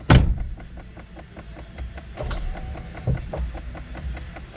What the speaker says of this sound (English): Ticking noise in the dash.